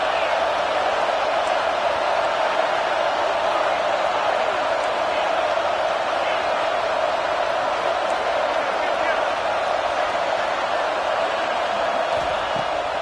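Football stadium crowd noise fills the background as a steady, far-off roar beneath a commentator's continuous play-by-play talk.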